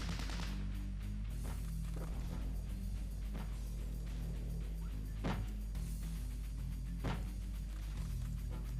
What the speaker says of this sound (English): Okay, stop shooting. You're wasting ammo.